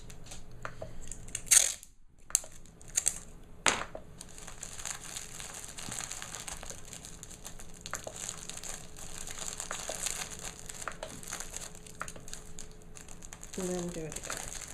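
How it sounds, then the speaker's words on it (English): Wrapping paper being folded around a present at the corners and secured with sellotape: close, soft crinkling and rustling of paper throughout, with a few sharper crackles and handling bumps. "We're going to go over at the corners, make a nice sort of envelope sort of shape, flap shape fold, and then fold it over and secure with sellotape."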